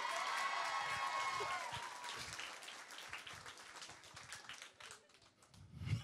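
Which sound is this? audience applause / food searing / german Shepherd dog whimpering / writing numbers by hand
audience applause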